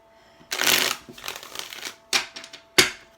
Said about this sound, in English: but I'm just going to shuffle a few more times.